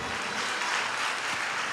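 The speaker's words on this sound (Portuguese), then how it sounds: "pode aplaudir o Senhor" Dense applause from a church congregation praising the Lord, a steady wash of many hands clapping at even loudness with no talk over it.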